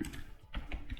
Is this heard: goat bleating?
no